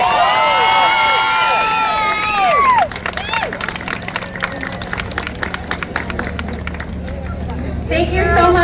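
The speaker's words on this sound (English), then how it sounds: "Can I get one more applause for our winners?" Crowd at an outdoor collector car show in Simi Valley breaks into applause and cheering for the winners, a steady wash of clapping and voices that follows a loud announcer.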